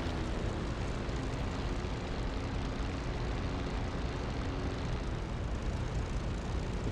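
A P-51 Mustang's piston engine runs steadily in DCS World as the fighter taxis, a broad, even propeller drone with a low rumble and no talk, holding at a constant level throughout.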